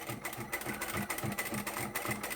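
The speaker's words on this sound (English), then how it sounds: "and then you can continue to sew" A sewing machine stitches an elastic wristlet strap onto a bed sheet, its steady rhythmic whirring and needle thumps continuous and close, with no talking.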